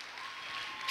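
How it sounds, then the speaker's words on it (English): A church congregation applauds, a brief, dense wash of many hands clapping together at moderate distance. "Clap your hands together for Jesus with all power and all authority."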